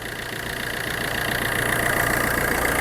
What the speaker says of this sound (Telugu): ఇంజిన్ బీటింగ్ అయితే చాలా స్మూత్గా ఉందండి.